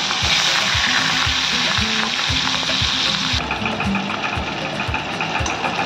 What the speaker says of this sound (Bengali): তেলেতেই মাছগুলো ভালো করে ভাজবো